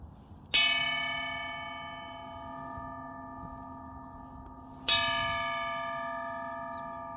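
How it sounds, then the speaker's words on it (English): Two strikes of the bell of love at the Suncheon drama site in Korea, each a loud metallic clang with a long, ringing, slowly decaying tone, spaced about four seconds apart with no talking. "ring this bell 3 times, my wish will come true"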